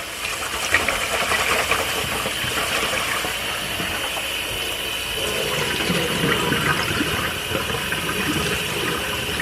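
Tap water runs in a steady, close stream, splashing and swishing as rice is rinsed in a bowl, with no voices.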